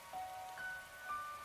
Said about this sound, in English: Oh, and it's raining too. It's really coming down hard.